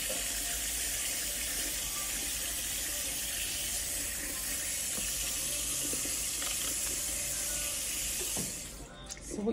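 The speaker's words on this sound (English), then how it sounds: "you need to make sure you rinse it quite a long time" Tap water runs steadily into a sink while a hair topper is rinsed, a close, continuous splashing hiss that lasts throughout and briefly shifts near the end.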